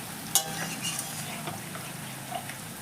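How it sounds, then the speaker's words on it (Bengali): Chicken bhuna with onions sautéing in a pan, a continuous close sizzle with scattered sharp scrapes and clinks of a spoon against the pan, no talking. "চিকেনটাকে আগে কষে নিতে হবে"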